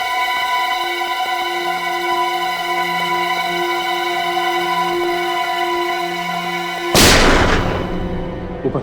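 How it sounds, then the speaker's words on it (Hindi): Gunfire in a TV crime drama scene: a continuous mechanical hum runs underneath, then a sudden loud burst cuts in near the end, like a close gunshot. "सर पटाखे नहीं चल रहे, गोलियां चल रही हैं।"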